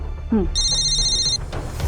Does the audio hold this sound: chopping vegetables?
no